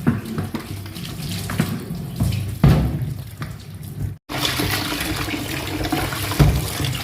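Tap water pours steadily into a plastic bucket being rinsed clean of scale, a close, continuous splashing gush that shifts as the bucket moves, broken by one brief gap.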